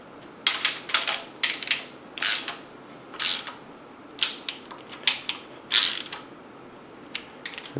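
A ratchet snugging down cylinder head bolts on a 383 engine, quick bursts of dry clicking pawl strokes in an irregular rhythm, close and fairly quiet, with short pauses between pulls.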